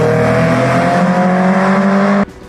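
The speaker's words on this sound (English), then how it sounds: "Having exhaust is the best." A Toyota MR2 with an aftermarket exhaust revs loudly and steadily close by, its droning engine note holding for about two seconds before cutting off abruptly.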